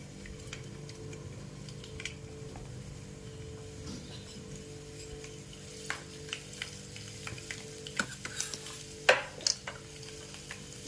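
Hot oil sizzles steadily in a pan as chopped garlic fries with cumin and mustard seeds, with scattered clicks of a stirring utensil growing busier toward the end.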